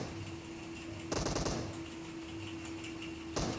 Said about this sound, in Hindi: सबसे पहले तो यहाँ एक बोट था जो उस बंदे को गोलियाँ मार रहा था